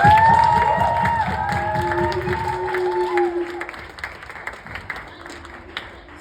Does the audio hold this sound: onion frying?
no